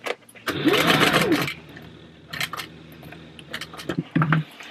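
A sewing machine base-stitching D-rings onto fabric runs in a loud, steady burst for about a second, then falls to quieter intermittent mechanical clicks and handling sounds.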